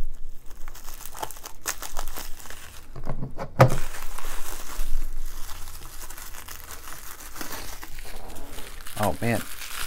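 Bubble-wrapped card packaging is cut open up close, with crinkling and crumpling of plastic, a few sharp snips and tearing, amid handling noise and some talking.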